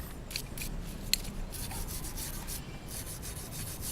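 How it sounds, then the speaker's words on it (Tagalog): A steel wire brush scrubs motorcycle brake parts on a Honda Wave 100 with a steady, close, raspy rubbing that carries on without a break, plus one sharp tick partway through. "So gamit yung steel brush, linisan natin siya."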